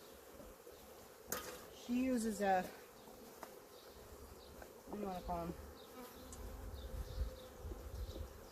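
Honey bees drone steadily around an open hive, a low continuous buzz running beneath a person talking, with a few louder swells and light clatters of hive equipment.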